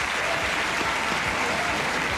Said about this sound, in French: applaudir bien fort Pierre-Emmanuel Barré